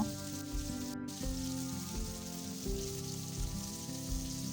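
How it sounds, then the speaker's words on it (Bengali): Chicken for dopiaza cooks in a pan with the lid off, giving a soft, steady sizzle and light crackle under background music, fairly quiet and continuous. "দেখো এবার আমি ঢাকা খুলে দেখছি খানিক্ষণ পর ঢাকা খুলে আবার চিকেনটা একটু নাড়াচাড়া করে নেব"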